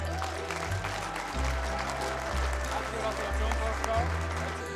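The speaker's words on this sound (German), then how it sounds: "Applaus." Applause from an audience at a chocolate-making competition award ceremony as third place is announced, steady clapping over a low musical hum throughout.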